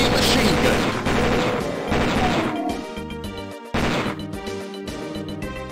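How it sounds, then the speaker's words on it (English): A heavy machine gun fires in a Doom game map, loud and dense bursts of rapid shots that break off and resume after a short gap, with mechanical clatter between them. "Heavy machine gun!"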